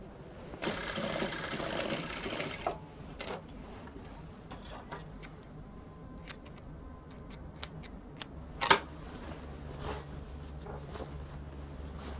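A sewing machine stitches fabric for a one-shoulder shift dress, giving a steady whirring burst of about two seconds, then scattered clicks and handling ticks nearby, with no speech.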